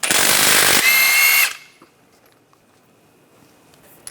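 Removing the crank bolt on a 2010–2016 Cadillac SRX with a 19mm socket: a loud, close power-tool whir for about a second and a half that cuts off abruptly, leaving near silence.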